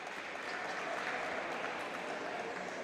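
A futsal arena crowd at the Pala del Mauro applauds during a Serie A match, a steady, fairly distant wash of clapping heard alone.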